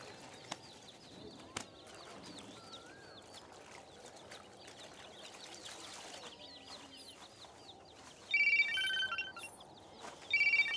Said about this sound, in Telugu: ఫోన్ వస్తుంది వినపడ్డలా?